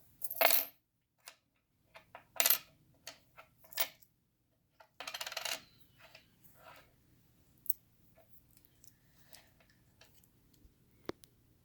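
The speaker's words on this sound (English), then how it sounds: "she is going to grab 3 coins" Coins are picked up and dropped onto a hard surface, making a few distinct metallic clinks and rattles separated by quiet gaps, close and fairly faint with no talking.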